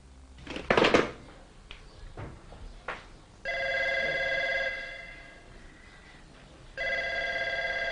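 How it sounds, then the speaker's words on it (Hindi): A telephone bell rings in two long bursts with a pause between, loud and close, after some brief knocks and rustling at the start. "बार बार घंटी बज रही है फोन की"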